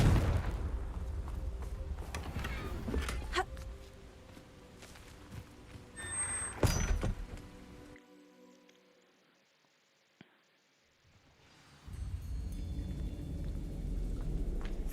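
A Confringo fire-blast spell goes off in Hogwarts Legacy with a loud booming burst and rumbling roar, then a short sharp crack. The game ambience drops away to near silence for a few seconds before it returns.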